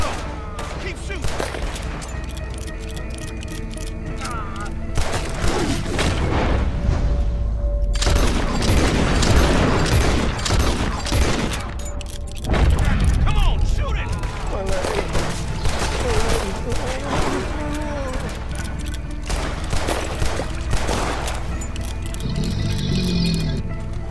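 A shootout in the video game Red Dead Redemption II, with dense bursts of rifle and pistol gunfire and booming shots rattling almost continuously, loud and close, while characters shout over the fighting.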